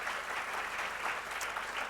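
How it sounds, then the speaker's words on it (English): Steady, dense applause from a summit audience celebrating climate champions, even and continuous throughout with no voices over it. "So a big round of applause for our achievers and change makers."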